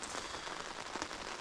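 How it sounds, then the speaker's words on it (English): Steady rain falls on a campsite along the Great Divide Mountain Bike Route, an even, close hiss of drops pattering on surfaces with no voices. "now it's been raining for well over an hour straight"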